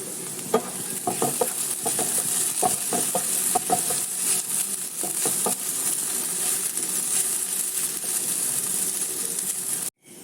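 Puli Ozhichoottan, a tangy South Indian vegetable stew, being stirred in a pot. A steady simmering sizzle runs throughout, and a series of spoon-on-pot scrapes and clicks clusters in the first half, with no talking.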